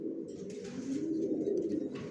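Original racer pigeons coo softly in a low, rolling murmur, one continuous burbling call close by in a quiet setting.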